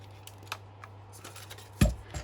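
Scissors snipping the corner off scrap paper for a junk journal, a few faint small clicks and then one sharp, close cut near the end, with no talk.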